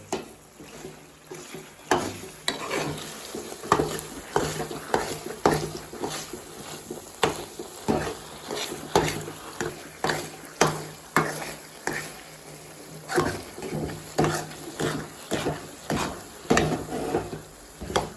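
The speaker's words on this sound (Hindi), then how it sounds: "सूजी डालने के बाद इसको अच्छी तरह मिक्स कर लेना है।" Semolina for Makhandi halwa is stirred in a pan in close, rhythmic scraping strokes, roughly one per second, each stroke with a soft sizzle and clatter against the metal.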